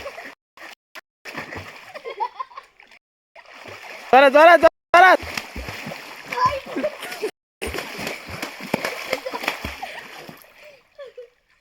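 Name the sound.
water splashing during a water fight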